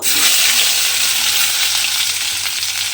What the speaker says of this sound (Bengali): এবারে এই মশলাটা আমি তেলের মধ্যে দিয়ে দেব।